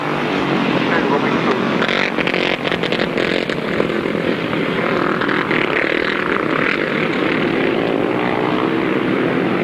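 Grasstrack racing motorcycles roar flat out at full throttle at a 1993 Staplecross meeting, making a loud, continuous engine drone with no break, while a commentator talks over it.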